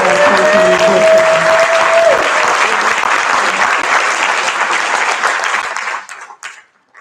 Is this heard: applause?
yes